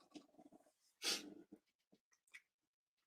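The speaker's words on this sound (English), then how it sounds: "I got a sneeze coming" A single sharp, breathy sneeze bursts out close by, surrounded by quiet sniffs and breathing with otherwise near silence.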